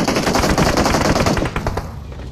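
Loud, rapid automatic gunfire from PUBG Mobile rattles in a dense continuous burst close by, then thins into a few scattered shots.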